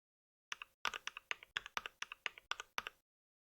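Mechanical keyboard typing produced by the Mechvibes sound effect app, a quick run of about a dozen crisp, clacky keystrokes in short bursts, close and clear over silence.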